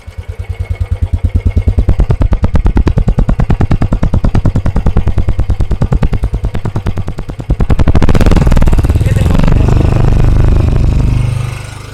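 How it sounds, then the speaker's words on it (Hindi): Royal Enfield Bullet 350 motorcycle exhaust, loud and close, a rapid even thumping idle for several seconds, then revved up into a dense rising roar before easing back. "बुलेट 350 का एग्जॉस्ट नोट"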